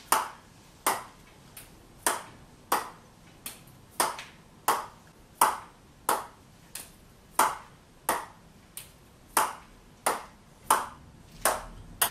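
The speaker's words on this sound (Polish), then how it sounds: "dźwięk tej okładziny też tutaj się dokłada do dźwięku, jaki wydaje taka rakietka" Table tennis ball striking a racket faced with Sanwei Target Europe rubber, a steady series of about eighteen crisp, bright pings spaced roughly every two-thirds of a second, close and alone.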